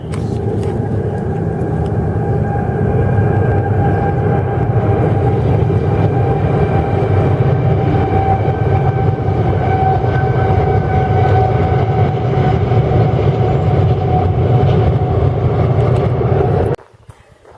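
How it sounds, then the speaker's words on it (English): A heavy, steady rumble with a faint tonal whine holds for over fifteen seconds as a train crosses a bridge close by, then suddenly drops away. "Here comes the train."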